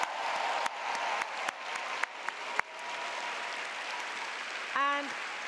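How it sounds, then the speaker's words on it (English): Audience applause at an evening gathering honoring women storytellers: a dense, sustained wash of clapping from a large crowd that carries on steadily before a brief voice cuts in near the end. "I'd like to hear a big round of applause for every one of them."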